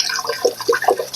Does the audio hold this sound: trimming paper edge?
no